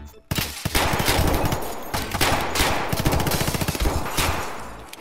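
Gunfire in the shooter game Escape from Tarkov: loud, close bursts of rapid automatic shots in an uneven rhythm, with several sharp single cracks between the bursts.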